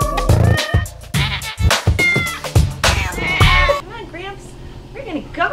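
A cat meows repeatedly and loudly up close, some calls drawn out into caterwauling yowls, with people talking over much of it and a low steady background hum.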